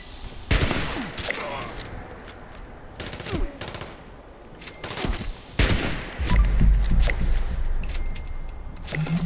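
Rapid gunfire bursts in Fallout 76 as a player lines up headshots, with sharp cracks near the start and again around the middle over a busy game backdrop of thumps and ambient noise.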